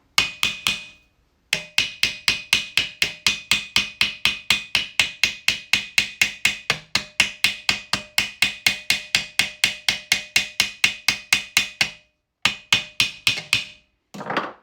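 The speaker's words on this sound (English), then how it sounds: "So now when I tighten the rivet, that should go away." A hammer strikes a rivet on a plastic basket hilt bracket in rapid, steady blows, dozens of sharp metallic taps close up, with two short pauses before the hammering resumes.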